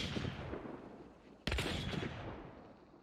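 Custom ammo shells fired in a video game, missing and whizzing past with a metallic, tingly passing sound; a sharp loud onset midway cuts through a dense, continuous rumble of gunfire and noise.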